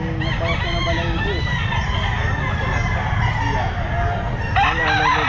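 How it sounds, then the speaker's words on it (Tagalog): Roosters crow repeatedly at a pet market, one nearby and loud with others overlapping, over a steady noisy background of clucking fowl. "Manok ni Boss Jaymar"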